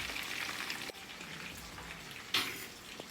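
Fish frying in hot oil for Jamaican brown stew fish, a soft continuous sizzle with faint crackles and one brief louder spatter as a piece drops in, quiet and steady throughout.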